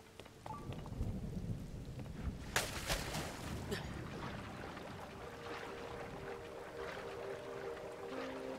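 Steady rain falls in the video game Zelda: Tears of the Kingdom, and a sharp thunderclap rumbles through the downpour early on. The rain continues evenly afterwards.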